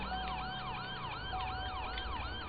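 Police car siren in the GTA 5 video game, a rapid repeating wail cycling several times a second over a low engine hum, with no talk.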